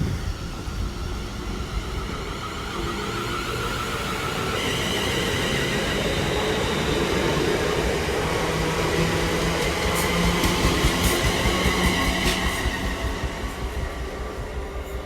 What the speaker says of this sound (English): Got a TFL rail service leaving as well.